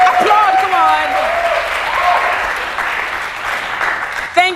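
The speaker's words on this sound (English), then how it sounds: "Applaud, come on." Audience applause at a church congress, a broad wash of clapping running throughout while a voice and some tonal sounds carry over the top at the start, ending with a sharp burst.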